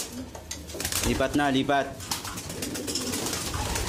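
Racing pigeons coo on a loft landing board, soft throaty calls clustered in the middle with a brief flutter, while someone talks over them.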